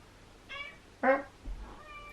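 A cat meows two or three times in short, quiet calls, the middle one loudest, against a near-silent background.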